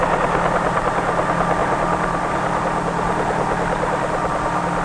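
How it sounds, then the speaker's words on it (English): A steady, loud helicopter rotor drone with a continuous engine whine, holding level throughout as if hovering close by. "they provide the lift necessary to raise the helicopter off the ground and permit it to hover"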